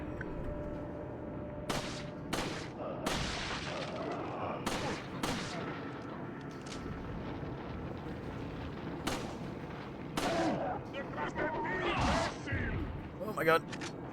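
Gunfire in Resident Evil 4 (2005), a scattered run of sharp gunshots, some close together, others spaced seconds apart, with a person talking in the background.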